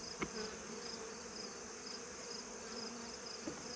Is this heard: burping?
no